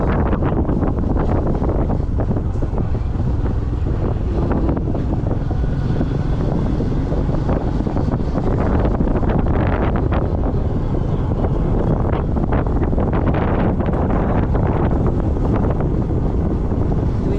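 Strong, steady wind roaring and buffeting throughout, with gusty low rumbling and no voices.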